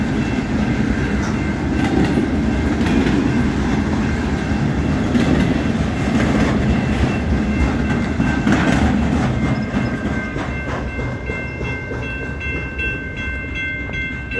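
CN freight train led by SD70ACe and ES44DC locomotives rolling past, a steady close rumble and clatter of cars filling the whole span, easing slightly toward the end.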